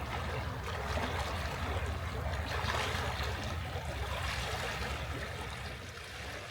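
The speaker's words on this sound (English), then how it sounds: "the waves, the ocean was really blowing in that day" Ocean waves surging in along the Dallas Road waterfront on a windy day, a steady broad wash of surf and water noise with low rumble, close and fairly loud throughout with no talking.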